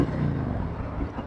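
Honda Goldwing motorcycle engine rumbling close by with a steady low throb, a brief rev swelling near the start before settling into an even idle.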